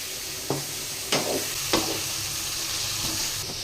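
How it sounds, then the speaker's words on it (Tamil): Onion and tomato sauté in a pan for egg masala gravy. Three distinct scraping stirs cut through a soft constant sizzle, then the pan settles into quiet frying. "வெங்காய தக்காளி தான் நல்லா வதக்கிட்டோம்."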